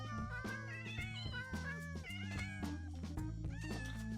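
Several Minecraft cats meow in quick overlapping succession, a string of close, clear, varied meows with no talking.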